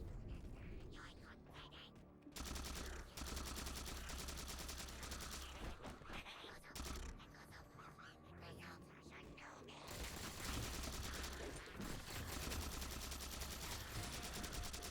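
A plasma rifle in Halo 4 fires steadily, a continuous stream of rapid shots layered with game sounds and occasional talk.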